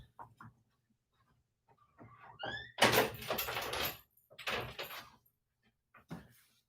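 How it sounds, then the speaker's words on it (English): An interior door is closed indoors, a broadband burst of slam and rattle followed by a second shorter knock-like thump, with faint scraping before and quiet after. "let me close the door."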